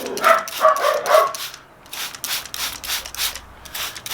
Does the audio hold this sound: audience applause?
no